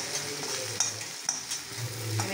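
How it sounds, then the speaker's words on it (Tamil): Chopped onions sautéing in a pan for egg noodles, a steady close sizzle with occasional scrapes and clinks of a stirring spoon, no voices. "நல்லா சேர்த்து பொன்னிறமாக வர வர நல்லா வதக்கிடுங்க."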